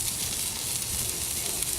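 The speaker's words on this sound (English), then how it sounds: "You can hear them sizzling on the grill." Steady, close sizzling and crackling of food on a grill, a continuous hissy fry with no talking.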